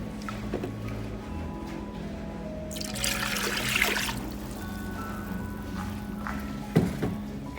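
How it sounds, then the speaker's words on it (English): Milk poured into a pot of cheddar cheese soup in a brief, splashing rush lasting about a second, over a steady low kitchen hum. "I'm going to pour that in and stir it together."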